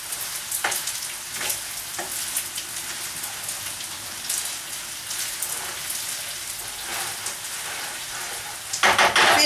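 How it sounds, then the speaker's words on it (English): Rice stir-fried in a hot pan with BBQ pork and frozen vegetables, a dense, continuous sizzle with scraping stir strokes throughout, loud and close, a sharper burst near the end, no talk. "Stir that rice. It's going to start to get all nice and hot,"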